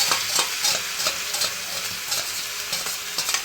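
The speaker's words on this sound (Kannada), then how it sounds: "ನೆಕ್ಸ್ಟ್ ಕಾಯಿ ಹಾಕೊಂಡು ಚೆನ್ನಾಗಿ ಫ್ರೈ ಮಾಡ್ಕೋಬೇಕು." Grated coconut and cooked vegetables frying in oil in a pan, a steady close sizzle with repeated scraping stir strokes in an uneven rhythm, no voices.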